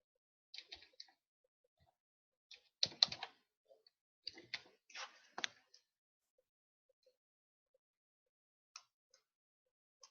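Short bursts of keystrokes on a computer keyboard as a web link is typed, with crisp, close clicks in a few quick clusters separated by quiet pauses and no voices.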